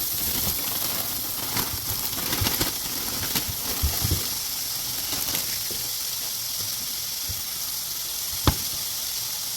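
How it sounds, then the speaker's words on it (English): Cabbage sizzles and crackles in a hot pan, a steady close hiss with occasional light knocks and scrapes, no talking. "it's kind of frying the cabbage just a little bit while it's kind of cooking down a little."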